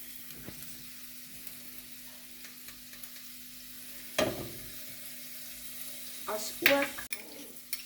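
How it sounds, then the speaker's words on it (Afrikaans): Food frying in butter in a pan gives a steady, soft sizzle throughout, with a few louder clatters of stirring or utensils near the end while a voice speaks quietly over it. "braai met my botter"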